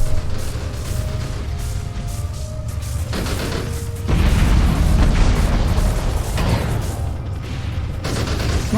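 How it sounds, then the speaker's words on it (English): Autocannon fire in the space strategy game Sins of a Solar Empire: Rebellion, loud rapid bursts and booming blasts repeating over a continuous rumbling battle. "autocannons sound pretty cool"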